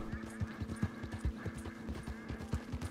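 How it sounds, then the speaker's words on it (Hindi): A horse's hooves plod through shallow water in Red Dead Redemption 2, a steady, even clip-clop of close, rhythmic footfalls with soft splashes that runs without pause. "पानी में छप छप करते हुए चले क्या?"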